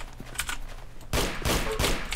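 Rapid gunfire rings out in the Roblox game Arsenal, scattered shots at first and then a dense, loud burst of continuous firing in the second half.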